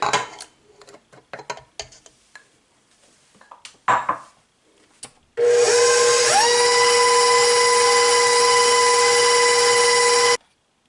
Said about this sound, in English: next we're going to add an egg. Mix that well